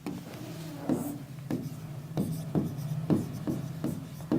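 Chalk or marker scratches across a board in short, repeated strokes, close and clear, with quiet room tone in the background.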